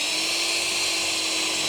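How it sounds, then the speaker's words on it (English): A high-pitched electric drill whines steadily and continuously at close range, with no pauses. "I'm going to bring my drill in"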